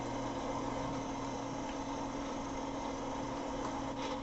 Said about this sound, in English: that was quite loud on the engine noise